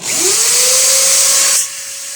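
A power tool polishes stone pendant slabs, giving a loud, close, high whirring whine that holds steady for over a second before dropping to a lower hum as the tool eases off.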